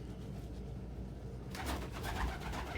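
Pet birds at home, including a pigeon-like cooing pet, vocalize close by in soft coos and calls over a low room hum, growing busier and louder partway through.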